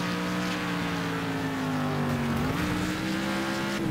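A racing car engine in the destruction racing game Next Car Game revs steadily and loud, its tone dipping slightly and then climbing again as it accelerates, with faint tire noise underneath.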